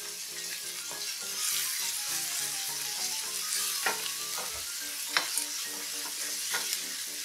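Steady sizzling of onions frying in hot oil for toor dal dosa batter, with occasional stirring scrapes and clinks of a utensil against the pan.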